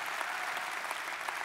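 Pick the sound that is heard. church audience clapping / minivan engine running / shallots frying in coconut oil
church audience clapping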